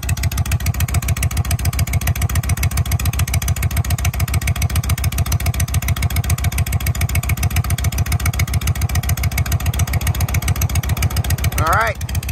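A Honda Shadow 750cc bobber motorcycle idles while warming up, its engine loping in a steady, rapid, loud pulsing rhythm close by, with a brief rising squeal near the end.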